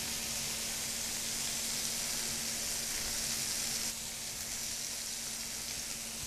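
Tomatoes sautéing in a pan give a steady, soft sizzle of frying that runs unbroken throughout, close and fairly quiet with a slight drop in level partway through and no voices.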